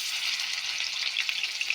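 A spoonful of garlic paste sizzles in hot oil that was just used to fry potatoes, giving a steady, close hiss with small crackles popping toward the end.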